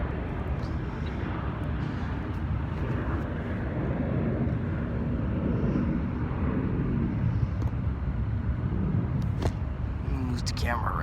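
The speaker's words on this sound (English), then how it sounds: "That Southwest is gonna park at one of these gates." A Southwest airliner taxiing at Los Angeles airport gives a steady, broad engine roar that holds close and constant throughout, with someone speaking over it.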